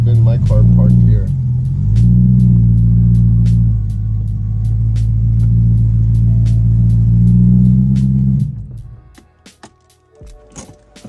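A car with a check-engine fault and a suspected oil leak, parked for a couple of days, reverses with a close, loud, steady low engine drone for about eight seconds, then the engine cuts out, leaving faint scattered clicks and ticks.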